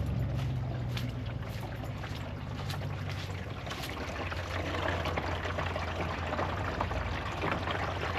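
Steady rushing water flows continuously through a hose, a constant hiss and low rumble with no pauses, filling a camper's water tank nearby.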